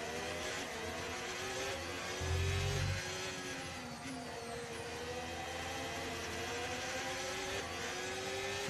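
Race car engine from the F1 25 VR racing game, a steady droning whine with shifting harmonic pitch throughout, briefly rising with a low rumble, then holding an even, moderately loud note with no talking.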